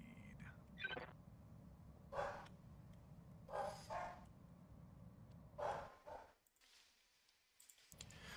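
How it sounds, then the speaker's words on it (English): A dog barks in short, separate bursts several times, faint and somewhat distant, over a low steady background hum. "let's see what she was barking about"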